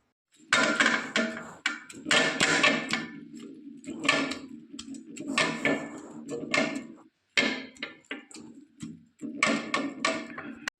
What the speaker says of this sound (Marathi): आता याला आपण इथेच तव्यावरच वाटून घेऊ.